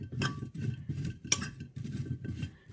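A spoon clinks and scrapes in a bowl as potatoes are mixed with masala spices and a pinch of cornflour, giving repeated short metallic taps and stirring scrapes, close and fairly quiet, with no talk.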